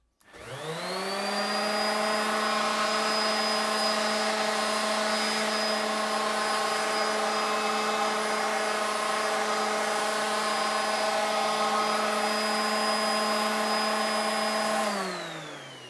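A random orbit sander runs steadily on a woodworking workpiece held by a grip block, giving a loud, even whirring whine that spins up quickly, holds constant for about fourteen seconds, then winds down.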